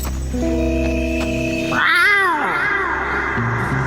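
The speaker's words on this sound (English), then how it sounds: "He makes a cat noise true to his code name." Young Ocelot from the Metal Gear Solid 3 video game lets out a single clear, close cat-like meow that rises and falls over about a second, set against a steady background of game music tones.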